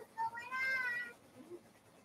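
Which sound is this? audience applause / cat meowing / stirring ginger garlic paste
cat meowing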